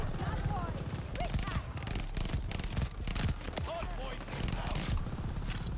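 Dense automatic gunfire in Call of Duty: Vanguard, with rattling bursts and sharp shots coming in quick succession throughout and staying loud and near, while a player talks over the shooting.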